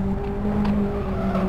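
Race car engine drones steadily in the Need for Speed video game as the car drifts on two wheels, a continuous close tonal engine hum with faint tire scrub throughout.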